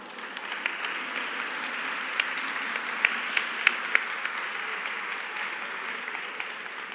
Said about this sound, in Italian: io credo che Torino meriti un applauso